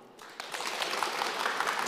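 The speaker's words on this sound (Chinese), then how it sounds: "我们最后呢再一次响起热烈的掌声" Steady applause from an audience at a lecture, closing thanks for an academician guest; dense clapping fills the whole stretch at an even, sustained level with no talking over it.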